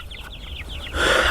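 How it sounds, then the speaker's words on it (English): A flock of about 84 chickens on pasture cluck in a quick run of short, chirpy calls, then a sudden rush of broad noise takes over. "So we have 84 chickens."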